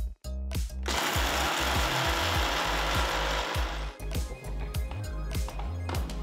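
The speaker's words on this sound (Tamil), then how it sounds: "ஆறுனதும் ஒரு மிக்சர் ஜாருக்கு மாத்தி பொடியா அரைச்சுக்கலாம்." A mixer grinder pulverises roasted spices into powder, a loud, dense whirring roar with rough rhythmic pulsing after a brief start, continuing alone without talk.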